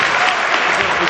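A dinner-event audience applauds the mayor at close range: dense, steady clapping that fills the whole moment without a break, loud and even throughout.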